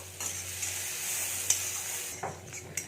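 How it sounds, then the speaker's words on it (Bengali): Chopped onions fry in a pan, giving a continuous sizzle broken by a few clinking stirs of a utensil against the pan near the end, with no talking. "পেঁয়াজ কুচিগুলো দিয়ে দিলাম পেঁয়াজগুলোকে আমি ছোট্ট ছোট করে কেটেছি আর বাড়া ছোট ছোট করে কেটেছি এটাকে আমি একটু ভেজে নেবো"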